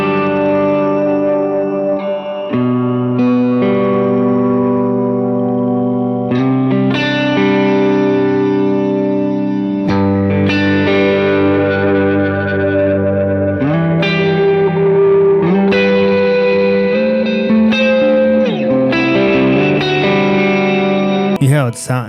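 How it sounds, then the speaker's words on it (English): Banana FX Abracadabra glitch reverb pedal processing sustained electric guitar chords, producing washy reverb with shifting, warbling modulation and abrupt glitchy changes across a continuous, loud passage. "Now this is the Banana FX Abracadabra. It is a reverb pedal."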